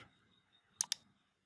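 Two quick, close mouse clicks in a fast pair while recovering deleted files in software, otherwise quiet.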